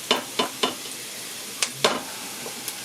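Chunky diced onions sauté in a pan with a soft, steady sizzle, broken by several quick scraping strokes of a stirring utensil, some in quick pairs.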